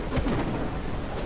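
Rain and thunder in the video game Troublemaker, a steady rainfall hiss under low rumbling thunder that swells early and again near the end of a short burst.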